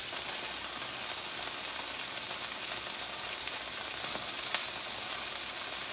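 Food sizzles steadily in a hot buttered pan on the stove, a continuous close frying hiss with a single brief louder crackle near the end and no talking.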